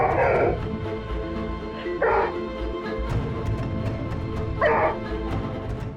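A dog gives three loud barks about two seconds apart, each a short harsh burst over a constant low rumbling growl and background hum, with no one talking.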